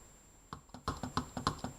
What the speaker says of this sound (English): Clicking calculator in the background there.